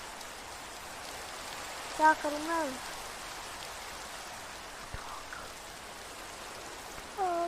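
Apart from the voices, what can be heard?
rain falling in Minecraft video game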